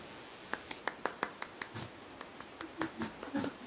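Hand clapping, a series of sharp, crisp claps at an uneven pace in a quiet room, moderately close, with soft low background noise and no talk.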